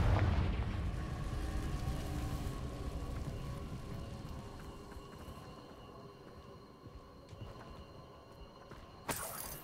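A Confringo fire spell in Hogwarts Legacy bursts into a loud, broad explosion that rumbles and slowly fades over several seconds, with a second sharp crack near the end.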